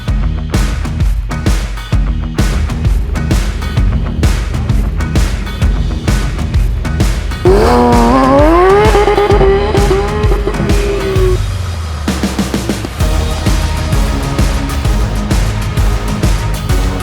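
Cars lapping a wet skid pad at the One Lap of America event, tires squealing and engines revving loudly, with a sustained rising squeal midway and continuous motor noise throughout, no talk.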